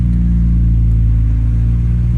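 A car engine idles steadily at close range, a loud, even low rumble with a faint whir while the vehicle reverses, with no talking.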